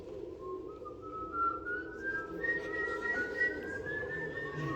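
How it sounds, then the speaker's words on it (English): A person whistles a slow, rising tune during a storytelling performance, the tone sliding gradually upward and holding, moderately quiet over faint room noise with no talking. "And then he heard a whistle."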